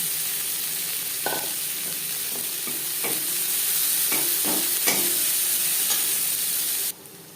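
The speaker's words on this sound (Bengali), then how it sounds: "তেল দিয়েছি দিয়ে দেবো পেঁয়াজ কুচি" Chopped onions, three medium ones, frying in oil in a kadai, a continuous loud sizzle broken by several sharp stirring scrapes, ending abruptly near the close with no speech.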